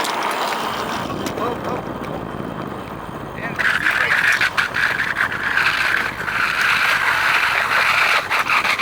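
A custom chopper bicycle fitted with an electric conversion kit whirs loudly with a rough mechanical drone, rising abruptly partway through and holding steady, while voices talk beneath it.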